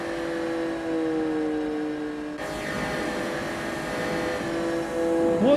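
A high-pitched sports car engine in Gran Turismo 4 drones steadily, then shifts gear and climbs again in a rising rev near the end, loud and continuous.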